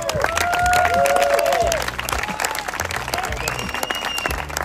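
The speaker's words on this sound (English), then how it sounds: "Mark, round of applause for Mark." A crowd claps in a round of applause at the OverlandNTH overland gathering, loud and full at first and then thinning. Faint tonal whistles or squeals sound over the clapping.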